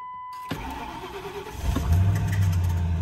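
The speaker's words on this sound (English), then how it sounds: "Cold start on the vehicle." A vehicle engine cold-starts up close before a spring dirt-bike trail ride. A brief cranking whir catches at about half a second, and the engine rises into a loud, rumbling idle that thickens and steadies toward the end.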